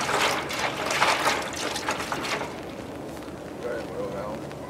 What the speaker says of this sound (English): Pouring.